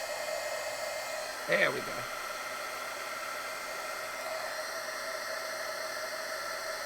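A heat tool melts embossing powder for junk journal jewelry with a steady close whirring blow throughout, and a person speaks briefly over it.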